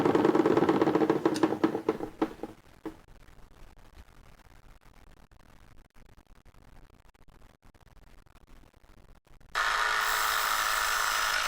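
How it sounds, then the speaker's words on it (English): Lathe turning V-grooves into a wooden pulley on a homemade 2x72 belt grinder, buzzing machine drone with scraping cuts at first, then quieter rattling and clicks, before a steady motor whine starts up again. "Here I'm turning the rest of the V-grooves in the pulley on the belt grinder."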